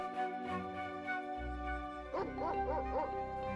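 Dogs give faint yips and whimpering, wavering barks that come in short bursts partway through, over a steady tonal music bed in an animated horror story.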